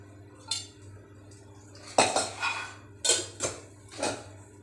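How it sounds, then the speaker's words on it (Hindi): Metal utensils clinking against a heating kadai as a few spoonfuls of oil go in, several sharp close clanks and taps over a faint background hum. "पहले हम कढ़िया गरम कर लिए, इसमें 3 चम्मच ऑयल डाल रहे हैं"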